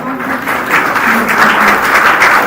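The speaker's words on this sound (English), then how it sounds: "let us give a big round of applause to all" Audience applause at an international academic conference during the release of an abstract book, a dense, loud wash of many hands clapping continuously, with a faint voice underneath.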